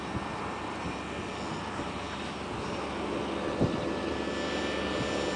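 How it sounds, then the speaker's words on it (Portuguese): Model jet aircraft launched from a platform, a continuous roaring engine whine that holds steady and grows slightly louder, heard outdoors at moderate distance with no talk. "O jatinho Jato dele. do Eliane"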